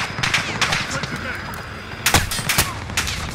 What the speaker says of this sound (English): I'm getting shot from the cliffside somewhere.